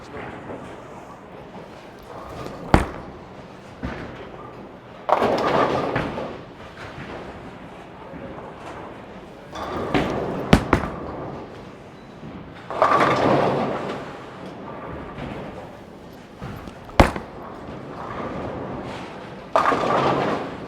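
Columbia 300 Power Torq bowling ball rolled down a lane in three shots, each with a sharp thud at release, a rumbling roll and a clattering pin strike, with faint alley ambience between.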